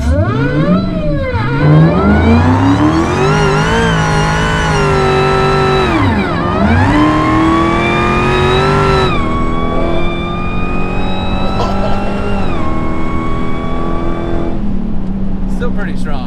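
A Hennessey Hellcat launches hard, its supercharger whining and engine roaring loudly as revs climb and drop through several hard pulls, close and dominant, with people talking underneath.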